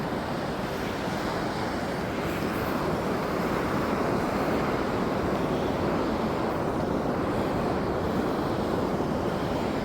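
Choppy sea surf rolls continuously onto a beach, a loud, steady wash of waves mixed with wind noise, with no voices.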